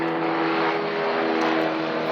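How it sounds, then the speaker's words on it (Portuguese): An airplane passes overhead, heard as a loud, steady broadband engine roar with a low droning hum that fills the whole stretch with no break and no voices over it. "você está passando um avião aqui"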